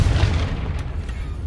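A Confringo fire spell explodes in Hogwarts Legacy on hard difficulty, a deep booming blast with a low rumbling tail that fills the whole moment, loud and close with no voices over it.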